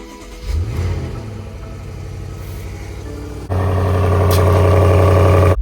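BMW M850i V8 engine in Sport Plus mode starting up: a low rumble swells near 0.5 s, settles into a steady idle, then a louder, richer bark around 3.5 s holds to the end, close and prominent with no talk.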